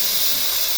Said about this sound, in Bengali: এখন সবজিগুলো দিয়ে দিবে, আলু, টমেটো আর পেঁয়াজ